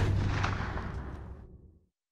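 A single rifle shot fired at a wildebeest bull on an African hunt, one sharp loud crack with a booming report that rolls away and fades out over about two seconds, heard alone.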